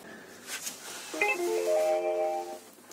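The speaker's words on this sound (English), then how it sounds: "Oh, an eBay notification." A phone plays an eBay notification ringtone, a short sequence of clear melodic chime tones rising midway and ringing on for over a second, fairly close and alone.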